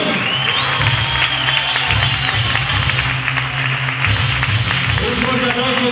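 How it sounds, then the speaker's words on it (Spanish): Loud, dense crowd applause and cheering rise from spectators at an amateur boxing night, a continuous roar of clapping and voices with tones of music running underneath. "Un fuerte aplauso también a Iván Ruiz."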